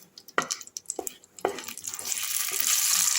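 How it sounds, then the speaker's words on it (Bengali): A dry red chilli and a bay leaf go into hot oil left over from frying prawns; a few sharp clinks and scrapes of the spoon come first, then a rising, steady sizzle fills the pan. "এবার আমি ওই তেলটার মধ্যেই দিয়ে দিচ্ছি একটা শুকনো লঙ্কা আর একটু তেজপাতা।"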